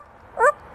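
A hook-billed parrot imitates a dog, a single short bark-like yelp, close and clear, surrounded by quiet room noise.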